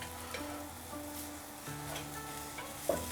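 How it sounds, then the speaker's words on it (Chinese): A leek dry-frying in a pan without oil gives a soft, steady sizzle, with faint stirring and a light clink near the end, close and quiet. "像我这样可以在锅里面把这个大葱给它煎一煎"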